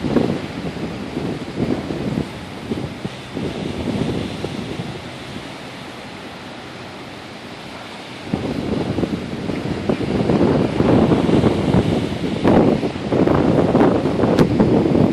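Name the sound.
strong wind blowing in a park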